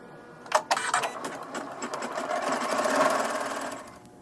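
An embroidery machine stitching a quilt block design with green thread in the needle runs with a steady, fast mechanical whir and rapid stitching pulses that build slightly louder toward the end, alone without talk.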